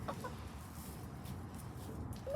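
Backyard chickens cluck softly and steadily at close range, a low continuous murmur of fowl with a few brief higher calls, no talking.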